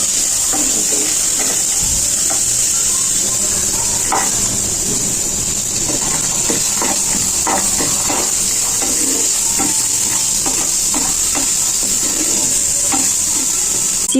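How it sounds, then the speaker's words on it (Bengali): Spices and nuts fry in a pan for a green-chilli chutney to go with veg momos, giving a steady, close sizzle with light stirring and scraping throughout and no talking. "এবার এই সব উপকরণগুলোকে আমি ভালো করে ভেজে নেব।"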